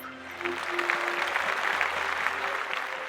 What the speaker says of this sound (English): let's give her a big round of applause nonetheless